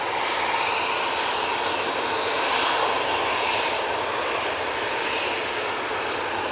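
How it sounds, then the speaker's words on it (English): Ryanair airliner arriving at Manchester Airport from Belfast, its engines a steady, fairly loud broadband roar that holds level throughout with no voices. "There's the Ryanair. Coming in from Belfast."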